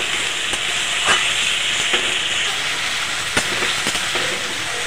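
Ginger paste, green chili paste and tomato paste sizzling in hot oil with spice tempering for muri ghonto, a loud steady frying hiss with a few soft clicks and pops, no talking.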